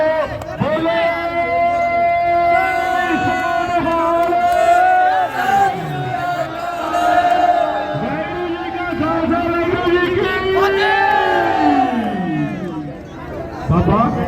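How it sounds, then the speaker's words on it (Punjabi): Kabaddi match crowd at a 65kg final in Punjab roaring and cheering continuously, with sustained chanting voices that rise and fall in a loud, dense mass of shouting. "ਇੱਕ ਜੈਕਾਰਾ ਲਾ ਲਿਓ ਜੇ ਪੰਜਾਬ 'ਚ ਜੰਮਿਆ"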